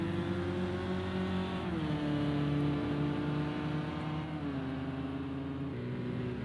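A BMW GTE race car engine drones steadily while tucked in a slipstream on a wet Fuji circuit in Project Cars 2, a sustained buzzing whine that shifts pitch slightly as gears and throttle change, with no talking.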